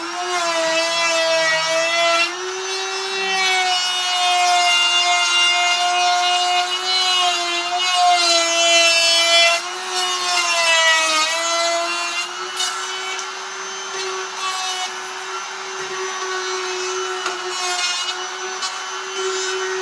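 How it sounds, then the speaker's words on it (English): Router fitted with a bearing-guided trim bit cuts a hinge recess in cedar, a loud steady high-pitched whine with bright harmonics and a gritty cutting rasp, continuous for the whole span with slight pitch dips under load. "It just has a trim bit that runs with a bearing on the inside of this so that you get a nice clean cut. And we'll go ahead and route this one out."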